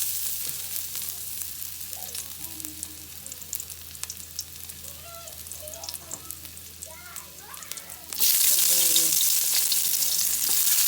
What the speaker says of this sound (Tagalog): Luya, sibuyas at bawang. Pagkatsa po natin hanggang sa mag-brown.